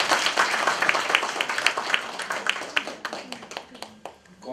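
A church audience claps to welcome an elder, giving a dense, even round of applause that fades out over a few seconds.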